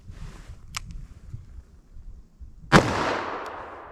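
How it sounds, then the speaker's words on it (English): A .357 Magnum round fires from a 4-inch barrel during a ballistic test: a faint click, then a single sharp, loud report whose echo trails off slowly. "Now let's hit that with our 357 Magnum through our 4 inch barrel."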